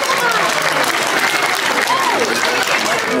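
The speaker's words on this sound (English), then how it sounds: "Give her another round of applause, girl." Audience applause at an Australia Zoo animal show, sustained dense clapping from a crowd with a few raised voices and a whistle-like call rising over it, continuous and fairly loud throughout.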